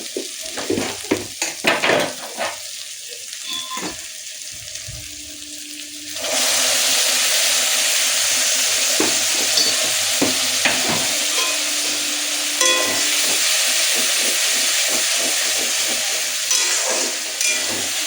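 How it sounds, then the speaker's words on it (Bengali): Hot water poured into frying spices for katla kalia sets off a sudden loud, steady sizzle after a few seconds of stirring and scraping, the hiss holding strong to the end with occasional clinks. "এবার দিয়ে দেবো গরম জলটা"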